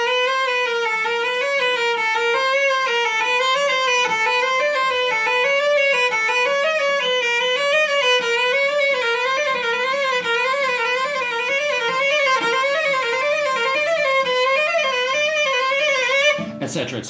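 Cello played in a steady up-and-down scale pattern showing finger spacings, sustained bowed notes rising and falling evenly for about sixteen seconds, clear and close with no talking.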